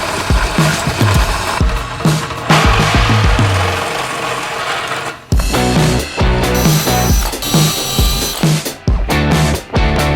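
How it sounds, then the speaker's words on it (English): A drill press bores holes in piano hinges, loud whirring and grinding bursts broken by brief pauses, with a motor hum between cuts and no talk. "use his drill press and get some holes in these guys"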